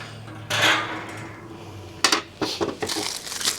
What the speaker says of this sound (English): From there, we'll put the grate back in.